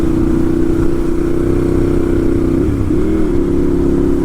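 2012 Ducati 796 Monster motorcycle engine heard while riding, a loud steady drone holding one pitch, then briefly dipping and climbing again as the throttle shifts, with wind rushing underneath.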